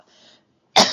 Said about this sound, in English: I still have my massive cough.